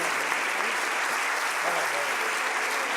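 Church congregation applauding during a Holy Communion service, a dense continuous wash of many hands clapping that stays steady and loud throughout, with faint voices underneath.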